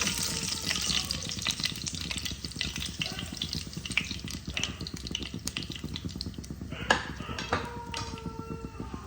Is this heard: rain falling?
no